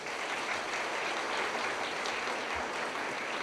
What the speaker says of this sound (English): let's give all these retirees a round of applause.